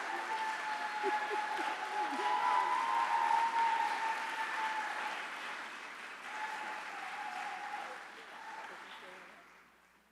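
An audience applauds steadily to welcome Antonia Kirkland at an evening celebration event, sustained clapping that swells and then slowly fades out over about ten seconds.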